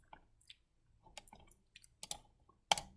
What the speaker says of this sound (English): And I'm clicking all over the place.